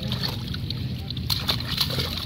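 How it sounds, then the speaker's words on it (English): Water splashes and sloshes repeatedly in small bursts in a kiddie pool, close by, with soft background voices mixed in. "Splash, splash, splash."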